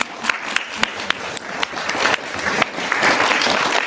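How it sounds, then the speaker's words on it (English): An audience claps for fellow participants at a motivational speaking event, starting with scattered individual claps that build into fuller, sustained applause close by. "let's clap for everyone who's already come up and clap for each other for showing up"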